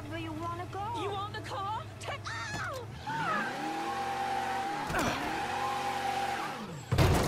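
A slow-accelerating car in the video game Mafia III gives a steady, droning engine tone that builds gently over several seconds, following a stretch of someone talking at the start.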